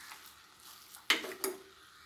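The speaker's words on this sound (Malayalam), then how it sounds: "മാഗി ഇട്ട് കൊടുത്ത് നമുക്ക് നല്ലതുപോലെ ഒന്ന് മിക്സ് ചെയ്തെടുക്കാം" Cooked Maggi noodles are mixed into vegetables in a pan over a faint background sizzle. Two sharp utensil clinks against the pan stand out close together.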